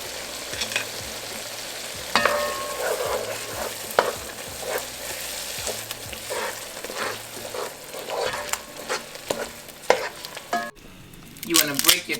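Shrimp fry in a pan with Dungeness crab for shrimp scampi, a steady close sizzle broken by frequent clacks and scrapes of a utensil stirring, with no talking.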